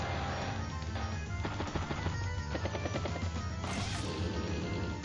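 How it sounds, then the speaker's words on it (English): In the Advance Wars: Days of Ruin strategy game, a mech infantry unit attacks a medium tank with a loud, continuous barrage of crashing impacts and rattling gunfire that runs for several seconds without talk. "Mech finish off the medium tank."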